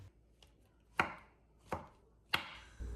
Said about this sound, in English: I followed that by washing and slicing up my mushrooms like so.